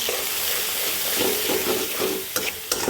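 Vegetables are stirred and fried in a pan, a steady close sizzle broken by repeated scraping stirs and a couple of sharp spatula knocks near the end.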